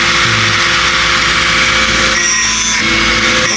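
An engine running steadily and loudly up close, a dense continuous drone with a slight change in tone partway through, no voices over it.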